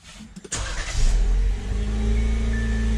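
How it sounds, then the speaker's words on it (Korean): Jeep Wrangler Overland engine cranking briefly, then catching and revving before settling into a steady, loud, close idle with no talk. "그럼 잠깐 시동 걸어볼까요?"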